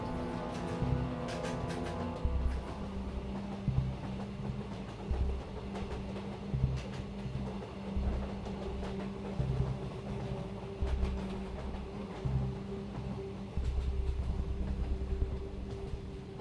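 A passenger train runs near Pamban Bridge at Rameswaram by the sea, a continuous rumbling roll with rhythmic wheel clacks repeating throughout, fairly steady and close.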